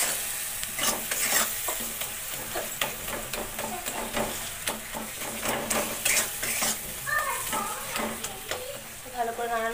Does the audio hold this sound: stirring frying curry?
yes